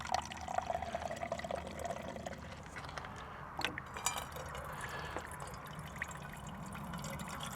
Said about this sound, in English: I got to put some water in my coffee maker and my rice cooker